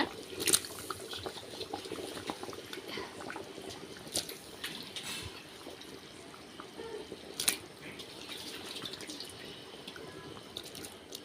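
Small river-caught kendai fish go into a village-style curry already at a rolling boil in a pot, giving a continuous bubbling, watery simmer with a couple of sharper splashes.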